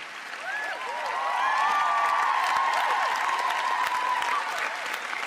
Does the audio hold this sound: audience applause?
yes